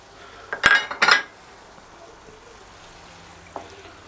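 A spoon scrapes and clinks twice against a pan as chopped garlic is stirred, two quick bright bursts followed by a faint tap, near and with no talk.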